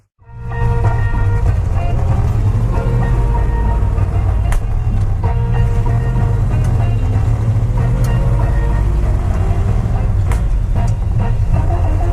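A 1965 Chevrolet Custom C20 pickup with an electric choke, its engine starting up and then idling at a steady, loud, close rumble, with someone talking over it.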